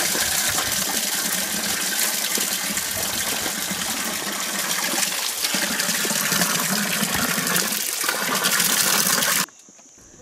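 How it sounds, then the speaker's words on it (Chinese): Clean water pours from a tap along a mountain trail in Bhutan as a loud, close, continuous gushing splash that stops suddenly just before the end. There is no talking. "水龙头里有银缝中倒出的净水即可。"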